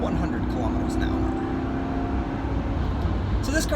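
Ford Crown Victoria with a 4.6 liter V8 driving, heard from inside the cabin as a steady low engine drone and road rumble, with faint murmuring voices over it.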